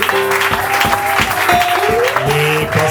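A church congregation applauding in acclamation during a pastor ordination service, continuous clapping blended with sustained organ or keyboard tones and voices for a few seconds.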